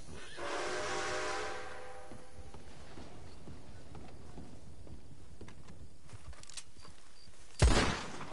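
A train in Red Dead Redemption 2 chugs and hisses, with a sharp steam whistle blast near the start and a loud burst of noise near the end.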